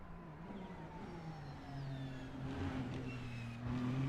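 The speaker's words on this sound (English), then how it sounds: "It's such a quiet car. It sounds like a vacuum cleaner." Ferrari GT3 race car in the Assetto Corsa sim racing game at Laguna Seca, a quiet whining engine hum rising steadily through the gears alongside a faint tonal drone, heard alone at close range.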